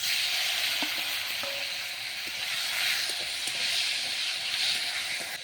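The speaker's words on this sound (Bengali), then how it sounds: "টমেটোটা আমি ভালোভাবে ভেজে নেব" Chopped tomatoes fry in a pan with whole spices: bay leaves, cardamom, cloves, cinnamon and cumin seeds. A steady broadband sizzle and hiss continues throughout, with faint scattered clicks beneath it and no voices.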